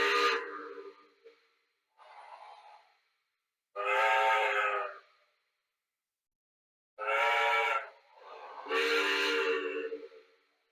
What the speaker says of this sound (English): So we're going to start with the whistles first.